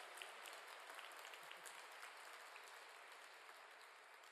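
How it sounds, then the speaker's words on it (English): Sustained audience applause at a university graduation ceremony, dense steady clapping from a crowd filling the whole stretch, fairly distant and even in level with no talk over it. "I think they deserve a round of applause"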